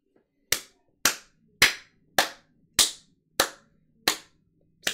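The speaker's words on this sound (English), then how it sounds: "Slow clap. Golf clap." A deliberate slow clap: eight sharp, evenly spaced hand claps about half a second apart, close and crisp with brief decays and no talking.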